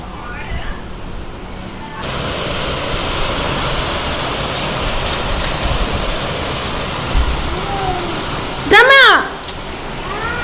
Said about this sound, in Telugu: వామ్మో, పెద్ద వర్షం వస్తుందా?